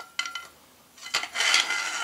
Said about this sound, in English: Now we put the parts together again. Take the barrel,